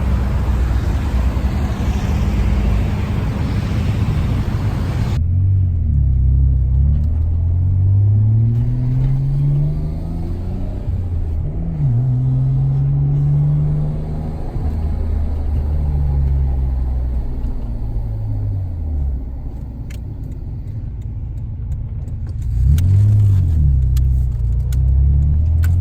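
A Nissan Skyline GT-R R33 engine drives steadily up close, revving and shifting through gears with rising and falling pitch, loud throughout with no talking.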